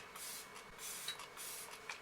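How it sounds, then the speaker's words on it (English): Makeup setting spray misted over a face in several short hissing bursts, soft and close with brief pauses between sprays and no talk. "Spray it all over my face."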